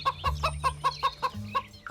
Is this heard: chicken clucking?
yes